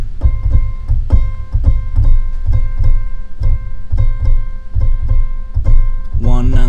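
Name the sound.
keyboard playing basic rhythm without accents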